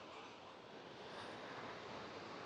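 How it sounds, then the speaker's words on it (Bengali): A waterfall stream flows under a highway on a mountain road in Utah, heard as a steady, dense broadband rush of water, continuous and fairly distant. "এই যে হাইওয়ের নিচ দিয়ে এই ঝর্ণাটা যাচ্ছে"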